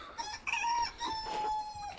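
A rooster crows nearby, one drawn-out cock-a-doodle-doo, fairly faint with some farmyard background.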